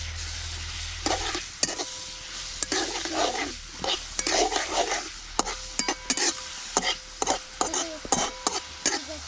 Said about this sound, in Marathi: तर आता हे चांगलं भाजून तेलात तळून घेऊया.